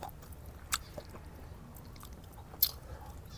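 Someone chews a big mouthful of spicy stir-fried chicken with rice eaten by hand, giving soft, wet, close-up squishing and a couple of sharper crunchy bites with no talking.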